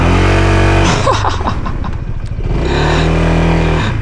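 A new motorcycle with traction control switched off revs hard off-road. The close, loud engine roars, dips into rough, clattering revs in the middle, then climbs back to a sustained drone.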